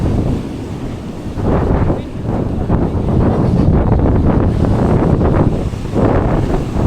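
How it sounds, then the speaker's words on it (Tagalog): Big ocean waves crash and roar against the shore in loud, continuous surges, heavily buffeted by wind rumbling across the microphone. "Ang laki ng mga alon."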